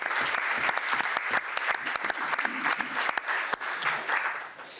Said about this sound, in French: moi je voudrais qu'on applaudisse cette réponse absolument fabuleuse